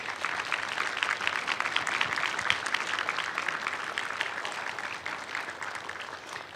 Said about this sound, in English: Let's give our candidates a quick round of applause.